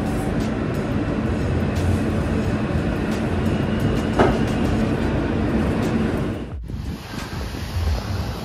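Steady rumbling roar of a moving New York City subway local train heard from inside a carriage in Manhattan, constant and loud, with a brief dip and faint clatter near the end.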